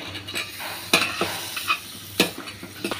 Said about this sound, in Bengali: পটলগুলো দিয়ে মাছের মাথার সাথে আবার ভালো করে 2-3 মিনিট কষিয়ে নেব